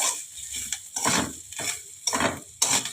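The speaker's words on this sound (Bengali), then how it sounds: "এবারে নারকেল কোড়াটা ভাজবো। হালকা করে একটু ভেজে নিতে হবে।" Grated coconut lightly frying in a pan, soft sizzle broken by several distinct stirring scrapes and bursts of spatula movement, close and moderately quiet, no voices.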